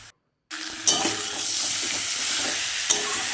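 Spiced new potatoes for aloor dum, stirred with a spatula in a frying pan: a steady broadband sizzle that starts after a brief silence and carries on, with a couple of scraping clinks of the spatula.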